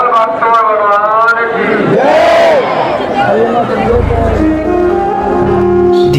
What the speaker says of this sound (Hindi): भीड़ देखिए लोगों की